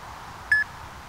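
A single short electronic beep from a Trackman launch monitor during golf pitching practice, clear and fairly faint, sounds once against quiet background noise.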